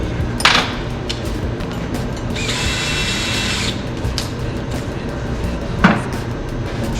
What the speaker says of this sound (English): So using your drill,